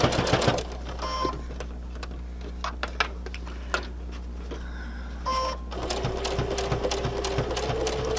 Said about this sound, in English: I'm going to do a locking stitch here. And I'm going to just stitch along.